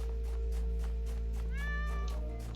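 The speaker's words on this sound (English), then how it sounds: "Kitty! I didn't hear that the last time I was out here." A cat meows once from a distance in the video game The Talos Principle: Reawakened, a rising, drawn-out call over a steady low ambient drone.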